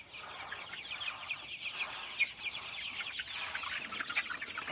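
A flock of 35-day-old chickens on a poultry farm cluck and chirp together in a dense, continuous chorus, with a few sharper calls standing out at moderate distance.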